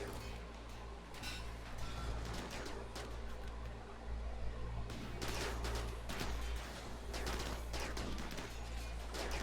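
Rapid, dense gunfire from an ambush in the colony-building game Rimworld, a steady crackling fusillade of many shots at moderate loudness that keeps going throughout, with heavier bursts toward the end.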